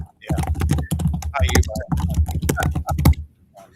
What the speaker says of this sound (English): It was typing a little bit.